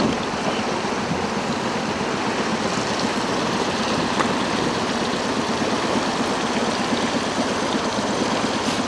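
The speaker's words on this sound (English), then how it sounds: "That fast water is pushing you downriver." Fast river current rushes steadily over shallow rock shelves and giant boulders on the Cowlitz River, a loud, continuous broadband roar of churning water with no pauses.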